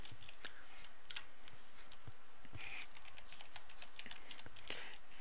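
Fingers tap out a user ID and password on a computer keyboard, quiet, close, irregular clicking keystrokes in short bursts.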